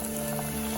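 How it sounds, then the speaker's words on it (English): Close, steady sizzling of onion fritters (onion pakora) frying in hot oil, a brief continuous crackle with no voices. "we'll start frying them one by one"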